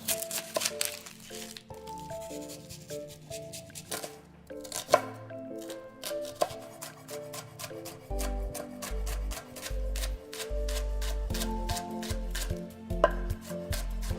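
Knife chopping banana shallot on a board, a run of quick, sharp, close taps at an irregular rhythm, fairly quiet under faint background music.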